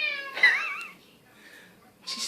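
An indoor cat cries with one drawn-out, wavering meow, then goes quiet before a second short cry begins at the end.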